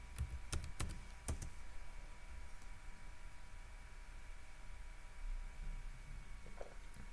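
Several quick, sharp keystrokes on a computer keyboard as a command is entered, close and clear at first, then trailing into a faint hum with a soft tap near the end.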